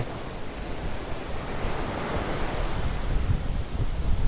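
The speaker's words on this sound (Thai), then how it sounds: "ลมเย็นลมแรงมาก" Strong, cool wind gusts across a beach beside the sea on the Trat coast near Ko Chang, a steady close rush of wind noise mixed with surf that builds louder toward the end, with no voices.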